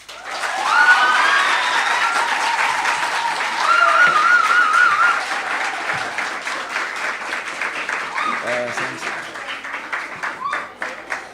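At a Lions Club gathering in St Vincent, the audience applauds warmly, a steady wash of clapping mixed with some cheering and murmurs, while a voice speaks over it and the clapping thins out.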